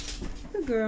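A female dog lets out a brief rising-then-falling whimper near the end, right after someone speaks softly to her.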